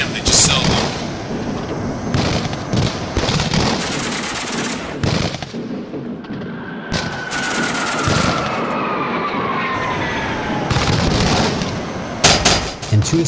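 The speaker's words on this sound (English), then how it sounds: "Leading the approach to SAM Site 6, Dogwood is met with a heavy barrage of AAA." A heavy anti-aircraft flak barrage in a flight combat video game, with dense, continuous booming bursts and crackling explosions close by, a jet engine whine rising through the middle, and a narrator's voice partly over the din.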